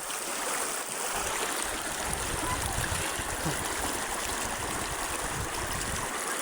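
Cold water rushing over piled rocks in a stream in Kawayan, a constant, close, broadband flowing rush with no break from start to finish.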